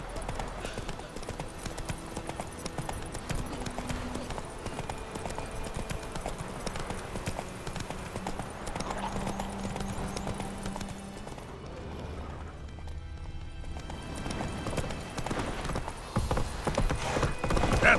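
Clip-clop of the horse Roach galloping in The Witcher 3 video game, steady rapid hoofbeats with a brief snort, under game music and characters talking.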